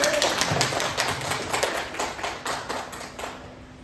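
Applause from an audience at an Indonesian talk on fathers' role in exclusive breastfeeding, a steady patter of many hands clapping at moderate level for a few seconds with a faint hum beneath.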